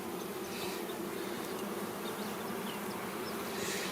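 Honeybees bustle at the entrance of a hive on an early-season first inspection, flying in laden with pollen and nectar: a steady, close, dense buzzing drone that holds unbroken throughout with no voices.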